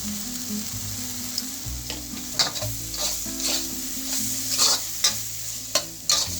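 Masala paste sautés in a hot pan with a steady close sizzle, punctuated by sharp spoon scrapes and clinks as it is stirred, with no talking.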